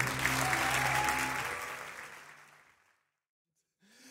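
A church congregation applauds in praise of the Lord, a dense burst of clapping that fades out gradually over a few seconds and ends in near silence.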